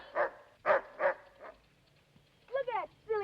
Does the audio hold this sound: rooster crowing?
no